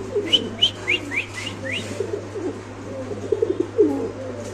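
Soft cooing from Spanish pigeons at a pigeon farm repeats in a short run, fairly close, over a steady low hum and faint background noise.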